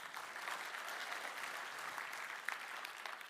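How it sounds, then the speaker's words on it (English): A lightning-talk audience gives a round of applause for a speaker, a soft, even wash of clapping heard from a distance that holds steady for a few seconds. "So give him a round of applause."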